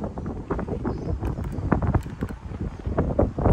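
Wind buffets a microphone outdoors in a church cemetery, a loud continuous rumbling roar with gusty surges throughout, dense low-frequency noise and no clear speech over it.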